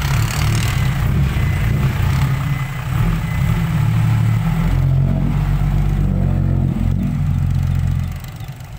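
A heavy diesel tractor engine chugs nearby during land-filling work, steady low rumbling with slight revs and shifts in pitch throughout, no talking.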